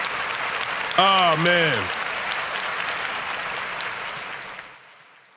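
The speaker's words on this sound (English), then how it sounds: "One more clap for us." Audience applause on a talk show keeps up as a steady clatter of many hands, while someone speaks briefly near the start, then the clapping thins and fades away into silence.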